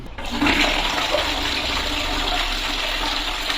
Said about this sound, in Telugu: మూత పెట్టేసి ఫ్లష్ ఆన్ చేసి చూద్దాం ఎంత ప్రెషర్ వస్తున్నాయో